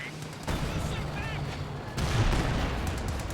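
Gunfire from infantry in a Company of Heroes 2 battle, British raid section and German grenadiers exchanging fire, a steady dense crackle of rifle and machine-gun shots with a heavier burst midway, heard under a commentator's voice.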